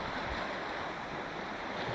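Ocean waves breaking on a shore, a constant loud broadband roar of surf with wind, steady and unbroken throughout, with no talking.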